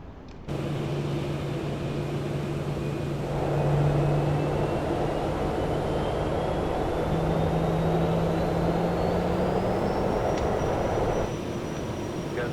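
Boeing Business Jet engines spooling up for takeoff in a flight simulator, a loud steady turbine roar with a whine that climbs slowly in pitch, close and sustained without voices.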